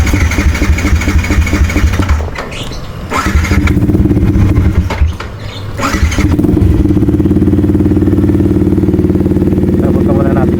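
A Yamaha XSR 155 motorcycle struggles through a hard cold start, cranking and sputtering in a couple of failed bursts before catching and settling into a steady close idle.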